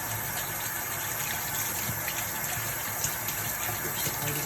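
A live lobster scrubbed clean of sea salt, dirt and mud with a toothbrush under steady running water, a close, continuous rushing stream with faint scrubbing texture and no talk.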